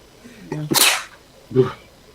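A single sharp sneeze, close and loud, preceded by a brief intake of breath and followed by a short voiced sound.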